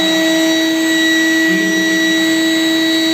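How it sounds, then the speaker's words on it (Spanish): A vacuum cleaner runs steadily and loudly with a strong whine, drawing a cotton-tipped thread through blocked electrical conduit; the drone stays constant throughout with a slight shift midway. "procedo a encender la aspiradora"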